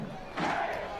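Soccer crowd at a U.S. Open Cup match between the Pittsburgh Riverhounds and D.C. United swells into loud cheering and applause partway through, a broad roar that holds steady to the end.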